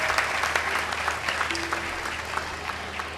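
Audience applauding at a thanksgiving gathering for the annual pilgrimage, steady dense clapping throughout, moderately loud with no talk over it.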